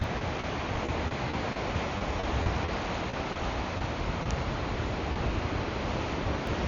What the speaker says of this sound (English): Boy, that wind coming off the water is cold.